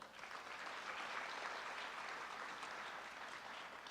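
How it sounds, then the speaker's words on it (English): Steady applause from an audience at a high school signing ceremony, a dense, even wash of many hands clapping that holds throughout, fairly faint and distant with no talk. "Let's give them an individual round of applause."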